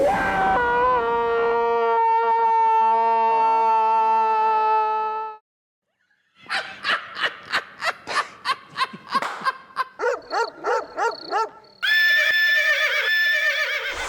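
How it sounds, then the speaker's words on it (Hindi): An Arabian horse gives a long, loud whinny, then a run of rapid snorting, snickering neighs after a brief pause, and a final shrill neigh. "घोड़ा है ना, अरबी घोड़ा।"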